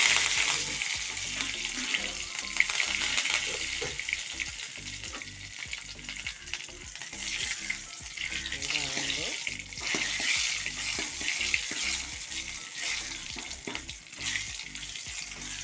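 Dried red chillies and curry leaves crackle and sizzle in hot oil after mustard seeds have popped, a dense, steady frying hiss with rapid sputtering pops running throughout at close range, no voices.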